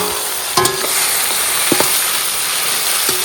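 Tomatoes and green chillies sizzle in a wok over a steady hissing fry, with a few sharp clanks and scrapes of stirring cutting through the constant close sizzle.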